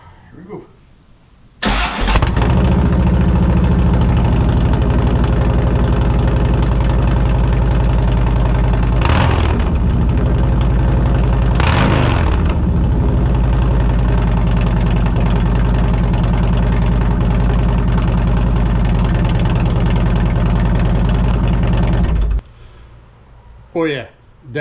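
A 2012 Harley-Davidson Ultraglide fitted with Tab Zombie exhaust cranks over and settles into a loud, steady, throbbing idle that runs close for about twenty seconds, with a couple of brief revs before it shuts off.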